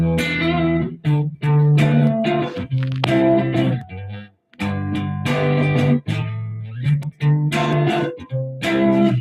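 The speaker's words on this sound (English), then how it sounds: "so this is the sound of the amp" Electric guitar played through an amp simulation gives loud, close bursts of ringing, slightly distorted chords with short gaps and one clear pause midway.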